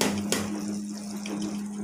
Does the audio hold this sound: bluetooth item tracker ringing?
no